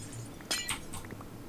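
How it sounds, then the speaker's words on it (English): Glass blocks shatter in Minecraft, a few quick crisp breaking crashes spaced across a second or so, close and clear with no talking. "get rid of some of this glass here."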